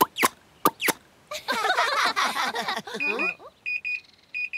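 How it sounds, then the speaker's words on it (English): A few sharp clicks and a chirpy jumble, then an electronic oven timer beeping in short, evenly repeated tones, close and clear. "Oh, that's my oven beeping."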